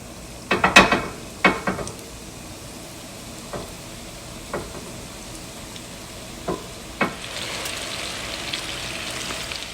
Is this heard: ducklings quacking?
no